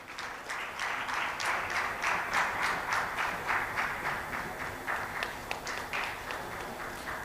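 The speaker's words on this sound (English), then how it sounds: "Please extend a warm round of applause" At a sustainability conference a seated audience offers a warm round of applause as a memento is presented to a panelist, with moderately loud, evenly sustained clapping and no speech over it.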